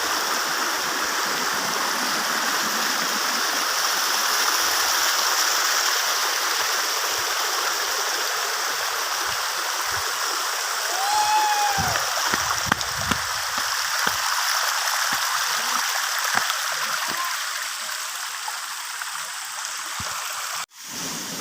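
Kallaru Falls and its stream near Salem rush with a constant broad wash of flowing water, steady and enveloping, with a few faint clicks and knocks over it.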